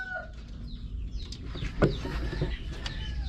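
Scattered clucks from laying hens in a coop at a moderate distance over a constant outdoor background noise, with a few brief louder calls standing out.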